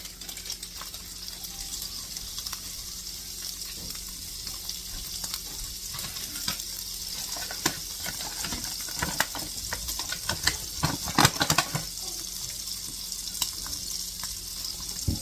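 A stick of butter melts in a pan on low heat, giving a soft continuous sizzle and crackle up close, with scattered pops and clatter that grow busier midway, no talking.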